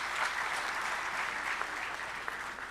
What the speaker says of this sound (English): It calls for a huge round of applause from you